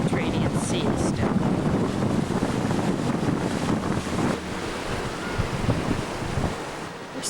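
Mediterranean Sea waves at Caesarea wash against the shore in a continuous surf roar with heavy wind buffeting the microphone, fairly distant and steady.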